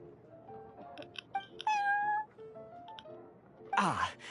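A cat meows in the video game Genshin Impact, with a few short calls and one drawn-out meow over a soft musical background, followed by a burst of noise near the end.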